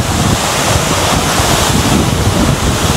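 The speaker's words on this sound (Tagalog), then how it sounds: "Uy, lakas ang hangin." Strong wind roars and buffets against the microphone at Pagsanjan Falls in the Philippines, mixed with the steady rush of falling water, loud and constant throughout.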